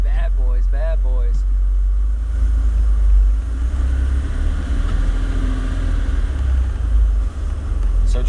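A 1991 Porsche 964 Turbo engine hums steadily at low revs while driving, a constant rumble and road noise under brief talk at the start.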